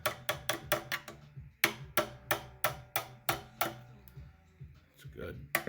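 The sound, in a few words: hitting a stuck pressure washer part back and forth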